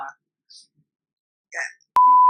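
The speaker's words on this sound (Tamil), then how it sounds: "பீப்ல போட்டுக்கோம்பா" A censor beep, a single steady tone held to the end after brief bits of other sound.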